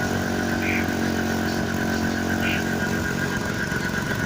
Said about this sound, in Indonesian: mungkin karena ada motor lewat